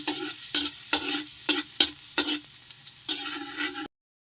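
Garlic fries in a little oil in a pan, a soft sizzle punctuated by about seven sharp scraping strokes of a spatula, then stopping abruptly.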